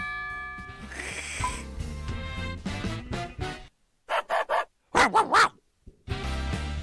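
A human voice imitates a dog barking: a quick series of three or four short, close, loud yaps set apart by brief pauses, with other talk and noise around them.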